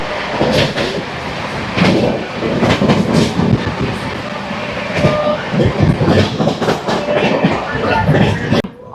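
Black Diamond Express train rolling into Asansol Junction, a close, busy rumble with rapid clickety-clack of wheels over points and joints, fairly loud throughout, with a voice briefly present beneath it.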